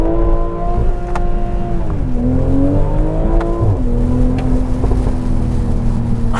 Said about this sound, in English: Acceleration is so brisk and this motor really loves to rev.